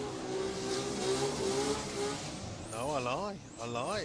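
Nissan GT-R at a Japanese car show drag racing event, a loud high engine note holding steady, then a rapidly wavering rev sequence as the car launches and shifts, with a person speaking over it.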